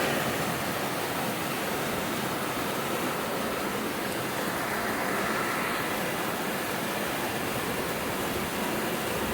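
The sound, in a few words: rain falling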